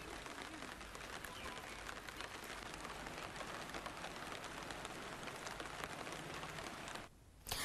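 Heavy monsoon downpour on Usam hill, a dense, steady hiss of rain pouring down without a break, cutting out briefly near the end.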